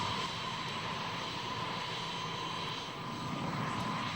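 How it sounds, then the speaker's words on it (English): A-10 jet engines running up before takeoff at an air show, a steady loud roaring whine with a constant pitch, close and continuous throughout. "now I'm running up the engines"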